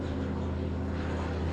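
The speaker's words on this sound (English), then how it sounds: "That plane's ultra low." A low-flying airplane passes overhead above a house under re-pointing work, its steady propeller drone loud and continuous throughout.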